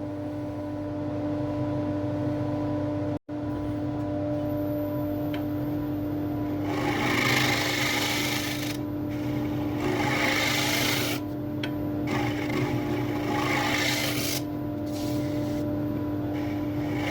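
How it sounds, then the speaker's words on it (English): A scraper rasps against the bottom of a banksia wood bowl spinning on a lathe, a continuous gritty scraping that swells and fades in passes over a steady motor hum. "Just going to refine the bottom a little bit with the scraper, and then be ready for sanding."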